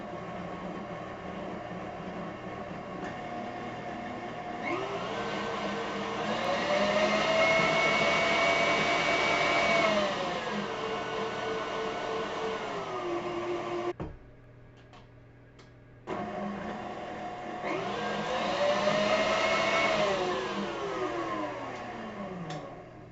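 Electric hand mixer whirring at low speed as cocoa powder is worked into chocolate Yule log batter, a steady motor hum that rises and falls in pitch, stops briefly, then starts again.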